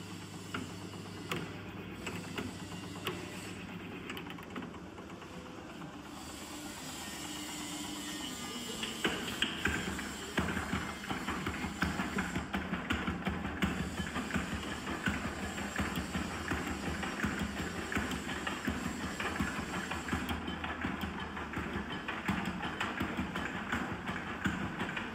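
A Raj Yantralay chilli pounding machine, a food processing machine with a switchable sieve, running steadily with a rapid, rattling mechanical thump and clatter that grows louder and denser partway through and continues at an even pace.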